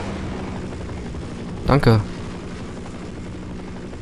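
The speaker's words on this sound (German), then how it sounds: "Und dieser Hubschrauber nervt so ein bisschen" Helicopter in the video game Half-Life drones steadily as a low rotor hum, with a brief louder burst of game sound partway through and a short spoken word over it.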